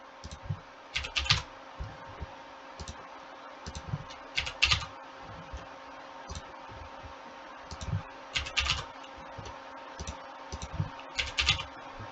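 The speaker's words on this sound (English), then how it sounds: "Typing." Quiet bursts of typing on a computer keyboard, clusters of rapid clicks separated by short pauses, under a faint steady background hum.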